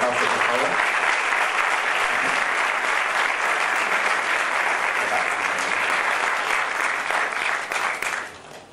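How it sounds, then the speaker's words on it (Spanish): Steady applause from a sizable crowd at a VOX party anniversary event, loud and continuous for several seconds before tapering off at the end. "Un aplauso, por favor."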